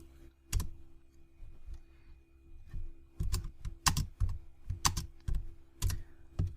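Keys clack on a computer keyboard in a quiet room, a few scattered taps at first and then a quicker cluster of crisp, close keystrokes with no voice present.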